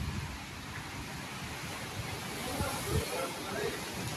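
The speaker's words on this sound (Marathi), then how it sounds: "पाऊस खूप मोठा पाऊस आहे पाहू शकता." Heavy rain pours down in a dense, continuous rushing hiss with low thumps, while people talk over the downpour.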